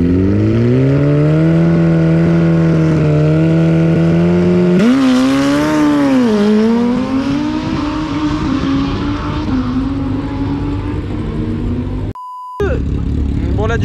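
A two-cylinder drag racing scooter with a mechanical gearbox makes a run, its engine screaming at high revs, then dropping and climbing again through a gear change, loud and close, with a brief beep near the end.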